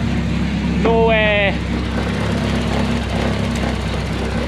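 A car engine idles steadily after a crank pulley refurbishment and reassembly, a close, even mechanical drone with a short whine-like tone rising over it near the start.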